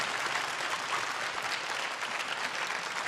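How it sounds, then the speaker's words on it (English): An audience at a Washington State robotics championship gives the judges a dense, steady round of applause, many hands clapping at even loudness throughout with no pause and no speech. "can we please give a thunderous round of applause for our judges"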